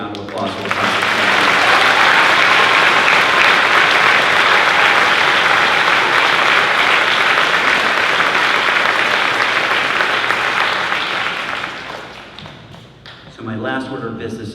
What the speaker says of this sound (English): join me in one more big hearty round of applause for the class.